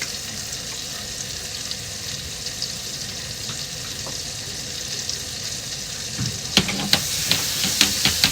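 Butter and olive oil fry in a pan as a steady hiss and sizzle, then louder crackling pops burst out near the end as something is stirred or added.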